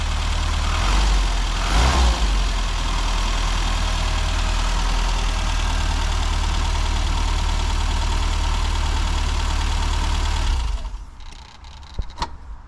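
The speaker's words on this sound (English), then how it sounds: "We don't get modern engines sounding like that." A classic Mini's engine idles close by in a steady, throbbing rumble for about eleven seconds, then cuts out, leaving a few faint clicks and knocks.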